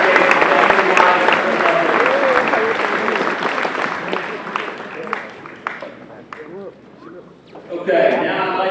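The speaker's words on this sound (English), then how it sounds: "Now let's give them all a great round of applause." Sustained applause from a banquet audience at a football awards dinner, a steady dense clatter of many hands that fades somewhat toward the end before swelling again, with voices mixed in.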